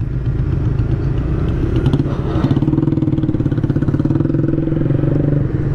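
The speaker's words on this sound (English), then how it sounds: "There's some dudes here next to me on a bike." Motorcycles ride alongside on a road in Mexico, a loud, steady engine drone with rhythmic throbbing pulses that builds in the second half, heard close with no talk over it.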